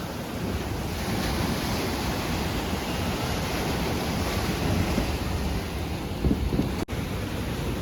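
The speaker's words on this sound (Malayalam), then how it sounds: "കടലിലെ തിര ഉണ്ടോ" Sea waves at Fort Kochi make a continuous, even wash of surf with some wind buffeting, heard steadily with no voices.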